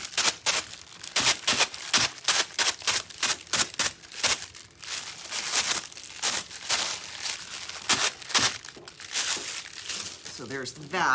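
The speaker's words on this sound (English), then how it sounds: "Got the red, and I'm crumpling it." A sheet of red fabric foil is crumpled by hand, giving repeated crisp crackling and crinkling bursts that are loud and close, with short pauses between them.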